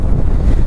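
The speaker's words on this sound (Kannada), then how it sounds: "ಒಳ್ಳೆ ಗಾಳಿ" Strong wind gusts outdoors among coconut palms and fields, buffeting the microphone with a loud, continuous low rumble and no voices.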